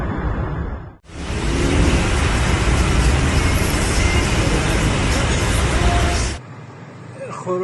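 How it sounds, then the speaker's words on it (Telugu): Heavy highway traffic of cars and buses on the expressway leaving Tehran toward Saveh: a loud, steady, close roar of engines and tyres that cuts off abruptly near the end. "కిలోమీటర్ల మేర ట్రాఫిక్."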